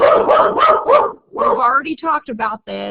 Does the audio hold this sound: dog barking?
yes